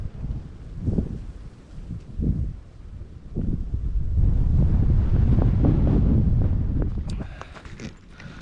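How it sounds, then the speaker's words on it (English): Gusts of wind sweep across a reservoir on a forest trail, buffeting the microphone in rising and falling surges with a long roaring swell in the middle, near and loud, with no talking. "The wind dancing across the water."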